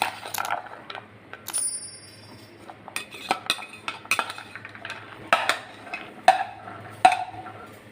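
Salted peanut kernels being stirred through hot salt in a pan make a busy stream of dry scraping, rattling and sharp metallic clinks, close and uneven, with no voices.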